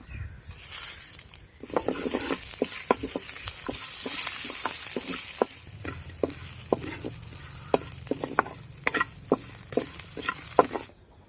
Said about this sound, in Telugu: ఎల్లిపాయ గబ్బాలు వేసుకుందాం అందులోనే కరివేపాకు వేసుకుని వేపుకుందాం